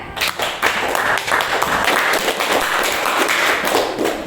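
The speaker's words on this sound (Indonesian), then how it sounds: "Bagus sekali, tepuk tangan" Classroom of students clapping their hands together in a quick, uneven burst of close, loud claps and taps lasting a few seconds, with no talking over it.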